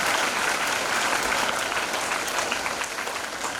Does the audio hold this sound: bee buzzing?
no